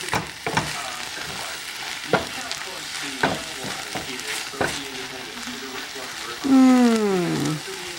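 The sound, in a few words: onions, peppers and mushrooms frying in a pan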